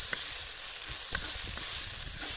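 Steady, close sizzle of spices and rock salt frying in a pan for thoothuvalai rasam, a bright even hiss with a few soft stirring knocks.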